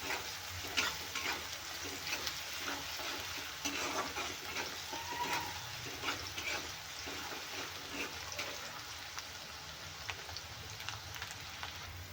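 Onion frying in oil until golden, a steady close sizzle with crackling bubbles and occasional stirring scrapes, continuous and even with no talk.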